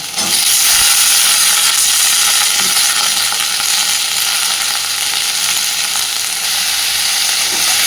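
Cut potatoes with chopped onion and slit green chilli sizzle loudly and steadily in a hot pan, a dense close hiss running without pause and no voices.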